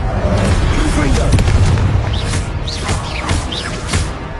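Confringo explosive spell in the video game Hogwarts Legacy, heard as a loud, dense burst of booming blasts and crackling magic impacts, with several sharp whooshing zips layered over a continuous rumbling roar.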